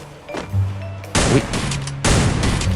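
Gunfire in the Free Fire battle royale video game: loud bursts of rapid shots arrive in two or three sharp volleys, close and dominant, with game background sounds between them.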